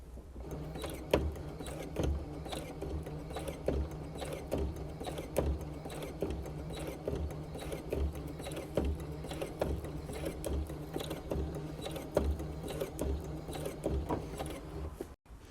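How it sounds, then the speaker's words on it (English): A sewing machine fitted with a free motion foot runs steadily while stitching stars onto a Texas quilt, with a fast, even mechanical rattle and needle clatter close up. Brief stops break the run now and then, and no one speaks. "I'm trying them with my free motion foot on my sewing machine"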